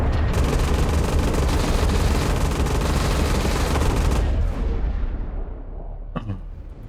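Spaceship weapons fire in the space combat game EverSpace 2, a dense loud stream of rapid shots that runs for about four seconds, then cuts off and leaves a fading tail and one short burst near the end.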